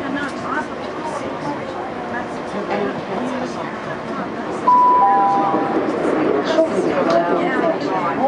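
Interior of a Saturday passenger train between Falconwood and Charing Cross, a steady rumble and rattle of carriage noise with a brief tonal squeal midway, while an announcement voice speaks over it.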